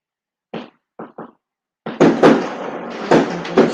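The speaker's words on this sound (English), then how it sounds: "Fireworks." New Year's fireworks going off outside: three brief, separated pops, then a dense, sustained burst of crackling bangs with several louder peaks, heard at moderate distance.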